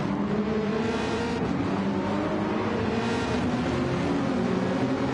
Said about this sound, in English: That Camaro, just an absolute belting sound as they pour on the throttle.